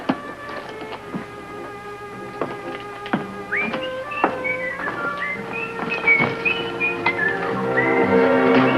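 Someone whistles a meandering tune in short, separate notes, fairly quiet and alone, with a few sharp taps mixed in.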